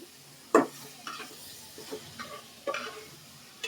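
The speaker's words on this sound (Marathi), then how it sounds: "फ्राय करून घ्यायचं" Prawns frying in a pan for a dry Marathi-style prawn dish, giving a few scattered crackles and stirring scrapes, fairly quiet and close, with no talking.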